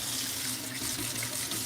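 Paint brushes rinsed under running water, a steady close hiss and splash of flowing tap water with no pauses and no talk.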